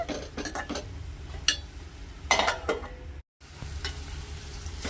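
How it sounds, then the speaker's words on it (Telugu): Ginger garlic paste fries in a pan for an egg and fish curry, with a low sizzle broken by clattering spoon strokes against metal and a brief cut to silence. "ఒక స్పూను అల్లం వెల్లుల్లి పేస్టు పోయి పచ్చివాసన పోయేదాకా వేయించుకోవాలి"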